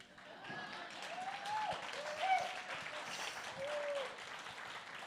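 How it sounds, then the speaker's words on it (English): Applause from an audience welcoming a speaker to the stage continues steadily at a moderate, somewhat distant level, with faint tonal voices or whoops gliding over the clapping. "Keep clapping."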